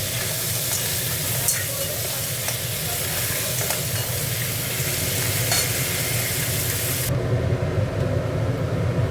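Onions fry loudly and steadily in a pan, a close, dense sizzle with a low rumble beneath it. The hiss drops off sharply near the end.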